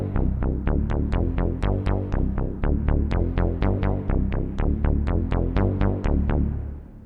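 Wavetable synthesizer playing 80s analog-style chords, a rapid even train of short plucked stabs with bright attacks and quick decays, repeating for several seconds, loud and close with no voices.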